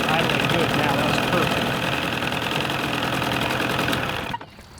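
An Evinrude outboard boat motor idles at low throttle with a steady, close mechanical chatter, running evenly for about four seconds before the sound abruptly drops away near the end.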